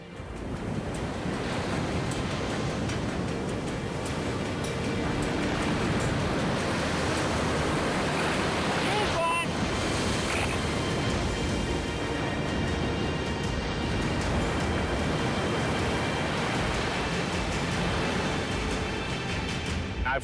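Big ocean waves crash continuously at a Lisbon surf spot, heard as a dense, roaring wash of surf with wind buffeting the microphone. The sound is loud and steady throughout, and no voices are heard.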